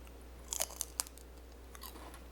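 Crunchy banana peel bacon is bitten and chewed close up: a cluster of sharp crisp crunches, then a couple of softer chews, over a quiet low hum.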